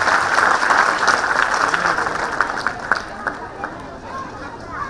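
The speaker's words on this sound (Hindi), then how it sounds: "इसलिए टीचर्स को और स्टूडेंट्स के लिए हम जोरदार ताली बजाते हुए उनको" Audience at a school annual function applauding loudly, a dense wash of clapping that gradually thins and fades toward the end, with crowd murmur mixed in.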